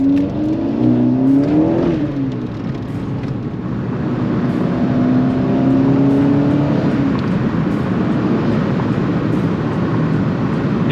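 A Volkswagen Golf R accelerates hard, its engine rising through the gears in a loud, steady, close-up drone with a brief dip in pitch partway through, and nobody speaks.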